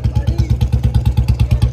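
A motorcycle engine idles close by in a steady, rapid thumping putter, loud and even throughout.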